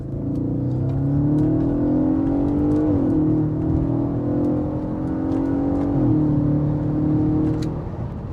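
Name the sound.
Audi RS4 Avant B8 4.2 V8 engine accelerating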